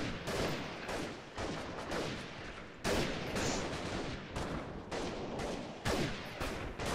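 Sniper rifle shots in the video game Freeman: Guerrilla Warfare, fired over a long range, with several sharp loud reports spaced a couple of seconds apart amid steady background noise.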